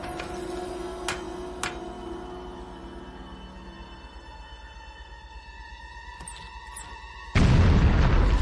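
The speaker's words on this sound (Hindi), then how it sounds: "उड़ा दो इस चट्टान को।" A cartoon explosion blows up a rock: a sudden loud boom that bursts in near the end after a stretch of tonal music and a few sharp ticks.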